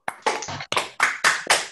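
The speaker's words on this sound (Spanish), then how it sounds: "Aplausos para Julio" Sparse rhythmic claps from a small gathering at a memorial tribute, about seven distinct sharp strikes in under two seconds, close and moderately loud, with no talking.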